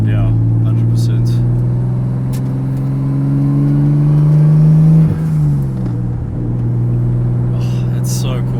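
A Nissan 200SX with a swapped RB25 engine drones at a steady low idle and then swells into a smooth, rising rev before settling back to a rumble, loud and close throughout.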